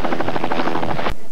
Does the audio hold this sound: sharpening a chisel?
no